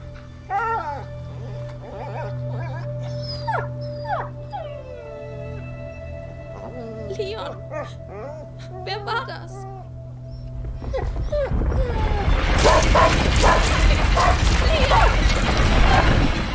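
A dog whimpers in the video game A Plague Tale: Innocence: a few thin, high whines over the game's ambience, followed by a loud burst of harsh noise, with a person talking over the game sound.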